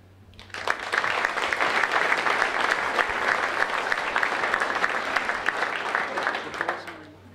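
A hall of fame ceremony audience at Saint Anselm College breaks into sustained, dense applause that swells quickly, holds steady for several seconds, then tapers off near the end.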